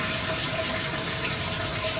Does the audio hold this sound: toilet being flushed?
yes